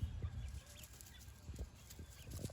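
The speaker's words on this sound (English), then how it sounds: "And this is one of my chickens." Soft chicken clucks and low murmuring come from a hen nearby, faint against a quiet background with light rustling.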